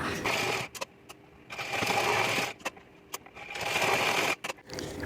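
A sewing machine stitches lace onto a cloth seat cover for a small wooden stool, running in three long continuous bursts separated by short pauses and clicks, close and fairly loud with no talk.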